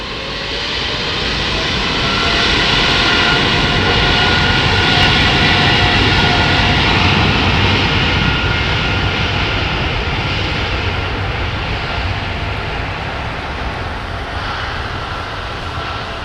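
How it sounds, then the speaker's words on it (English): A jet aircraft flies past in cloudy, vapour-forming conditions, its loud sustained engine roar building and then holding steady, close and continuous, with no voices. "we might get one or two of these jets going right the way through it."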